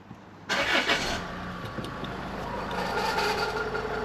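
A Range Rover Evoque engine cranks and fires about half a second in, with a loud burst of starter whir that settles into a steady idle.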